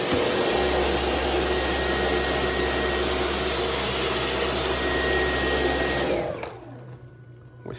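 A Dyson V11 cordless vacuum cleaner runs loud and steady at close range, a continuous motor whine with airflow hiss, then shuts off and winds down near the end, leaving quiet room tone.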